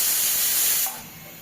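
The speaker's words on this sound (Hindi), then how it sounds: "और बस कुकर में सीटी लगा लीजिए" A pressure cooker whistle lets out a loud, steady jet of hissing steam that eases off toward the end, close and with no talk.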